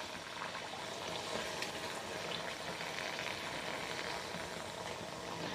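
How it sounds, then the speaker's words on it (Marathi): Spicy puris made with gram flour, jowar flour and semolina deep-frying in hot oil until golden brown, giving a steady, dense bubbling sizzle that holds at an even level throughout with no voices. "छान गोल्डन ब्राउन रंगावरती आपल्याला ह्या पुऱ्या तळून घ्यायच्या आहेत"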